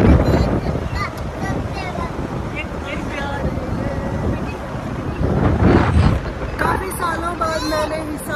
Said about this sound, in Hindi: बहुत जोर जोर से हवा चल रही है और ठंडी हवा लग रही है